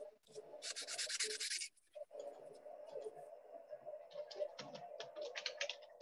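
A jeweler's brass cuff bracelet is buffed and polished with an abrasive rubbing hiss in short bursts, close but quiet, followed by light scratchy strokes and a faint steady hum from a machine.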